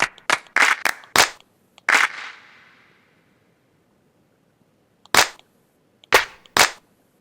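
Sharp clap samples fire one after another on a drum pad in a sampler app, crisp isolated hits with brief decays, a pause of silence, then a few more claps.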